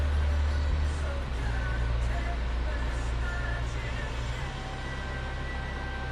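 A 2011 Moonlight White Infiniti G37x sedan reverses slowly up and over a curb, giving a steady, low engine rumble close by throughout, with faint thin tones above it and no sharp bump standing out.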